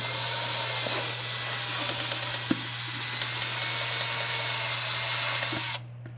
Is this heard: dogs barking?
no